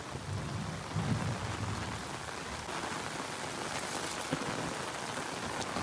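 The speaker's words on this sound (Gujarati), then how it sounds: "આખો દી એટલો વરસાદ નહોતો. આખી રાત આવ્યો પણ થોડો થોડો હતો. અત્યારે બહુ વધી ગયો છે." Heavy rain pours steadily outdoors during a monsoon downpour, a dense continuous hiss that stays loud and even throughout, with no voices.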